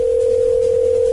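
A steady telephone dial tone hums continuously while a call is placed, loud and unbroken with a low background rumble.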